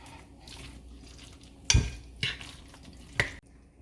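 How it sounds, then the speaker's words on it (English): A spoon stirs eggs into a crab noodle soup mixture, three distinct sharp scraping knocks against the bowl standing out over faint background handling. "And this is to bind everything. And just give it a well mix."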